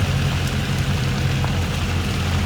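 Heavy rain pounds a jeep driving toward Naina Devi temple, a dense continuous wash of noise over a low steady engine rumble, close and loud throughout.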